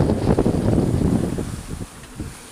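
Strong wind at sea aboard a sailboat heading toward Sardinia, under 20 knots with building waves, loud gusty buffeting on the microphone that eases toward the end.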